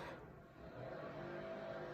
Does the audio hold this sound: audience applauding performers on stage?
no